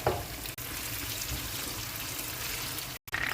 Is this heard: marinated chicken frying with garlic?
yes